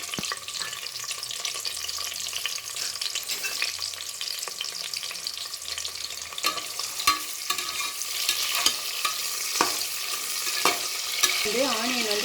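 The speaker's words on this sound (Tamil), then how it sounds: "இது ஆனியன் வந்து நல்லா பொன்னிறமாக வறுத்தாதாங்க" Onions frying in a pan with cashews, almonds and bay leaf for vegetable biryani, a continuous close sizzle broken by scraping stirs and small pops, steady and moderately loud without talk.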